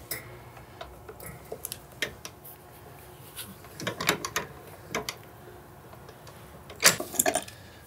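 A welt press working the welt on a handmade bespoke cowboy boot in a bootmaker's shop, giving scattered mechanical clicks and ratcheting knocks, with a louder cluster of sharp clacks near the end.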